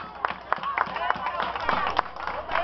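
A crowd claps with sharp, irregular hand claps, steady and fairly close, forming a lively round of applause.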